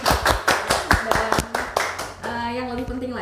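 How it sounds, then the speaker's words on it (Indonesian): A small group clapping at a podcast recording about an ASEAN Youth Camp, several quick uneven claps close by, followed by a short voice and laughter. "Yeay, tepuk tangan dulu."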